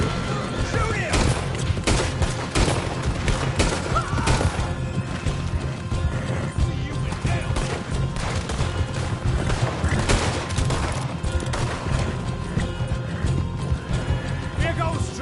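Gunfire rattles through a busy Red Dead Redemption 2 scene, thick and continuous and mixed with horse hooves, crashing and shouting voices.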